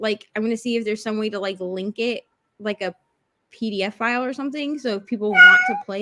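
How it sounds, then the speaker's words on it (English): A house cat meows briefly near the end, faint and partly masked by a person talking steadily throughout. "Oh, that's the cat."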